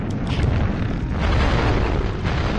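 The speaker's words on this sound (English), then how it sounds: "Oh, I can't get over those explosions" Explosions in The Legend of Spyro: A New Beginning rumble as a dense, continuous roar of booming blasts, loud and close, with no pauses and no voices.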